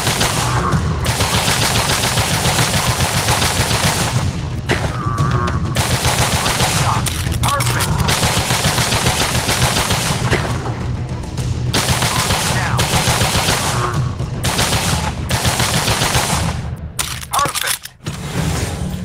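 Sustained rapid machine gun fire in the Gun Club VR video game, long continuous bursts with a few short pauses, loud and dense throughout.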